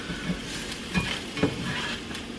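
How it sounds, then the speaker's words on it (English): Potatoes fry in a stovetop pan with a steady sizzle, broken by a few louder scrapes and stirs of a utensil against the pan. "I fry them just the way my mom fries them"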